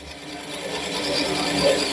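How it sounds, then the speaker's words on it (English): Power drill boring a hole with the bit going about half an inch deep, a steady close grinding whir that builds slightly in loudness over two seconds. "And we're drilling."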